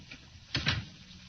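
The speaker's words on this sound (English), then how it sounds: "Close the door behind you." A door closes in an old-time radio drama, with two quick wooden knocks about a tenth of a second apart, close and fairly soft, over a quiet room hum.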